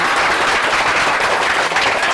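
Students in a classroom motivational session clap together, a dense, steady wash of applause sustained at even loudness throughout, with no gaps or talk.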